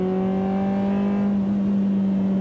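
A 1995 Ferrari F355 Berlinetta V8 engine holding a steady, loud drone with a strong low hum and bright overtones, heard close from inside the cabin, with no talking.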